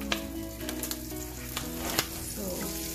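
Butter melting over a low flame in a pan for homemade ghee, a steady close sizzle with scattered sharp pops and crackles throughout, no voices.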